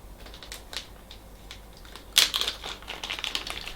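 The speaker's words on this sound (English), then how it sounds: "Let's get rid of all the plastic bags that we..." Plastic bags are crumpled and crinkled close by while a Creality Ender 3 Pro 3D printer is unboxed, starting as faint sparse rustles and then building into a louder, busy bout of crackling after a sharp crunch.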